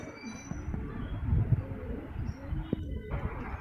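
Pigeons in a cage covered with polythene against the rain coo softly at a distance, low rolling calls under steady ambient noise with a few small knocks.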